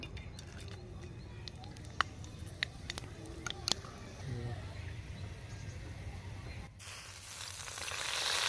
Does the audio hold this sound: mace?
yes